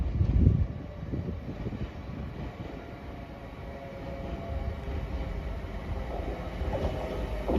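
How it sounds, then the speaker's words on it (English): The 1532 Pennine Express from Manchester Airport to Edinburgh Waverley pulls into Haymarket station, a steady rumbling roll of wheels and engine that swells slightly toward the end, with no voices over it. "Arriving in now is the 1532 Pennine Express service from Manchester Airport to Edinburgh Waverley."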